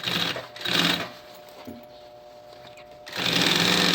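A sewing machine stitching the lining onto the bottom of a backpack, two short whirring bursts, a pause, then a longer steady run close by.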